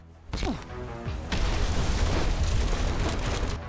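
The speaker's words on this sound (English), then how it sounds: "survived being almost impaled by falling debris, and an explosion caused by an armored vehicle" An armored vehicle in the World at War battle game sets off a sudden loud blast, followed by a second impact and a sustained roaring rumble of debris and combat noise.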